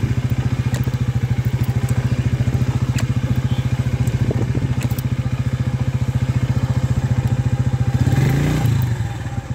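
A Mondial 150 motorcycle engine idling close by, a loud, steady rapid thumping putter with faint rattles, swelling and wavering briefly near the end.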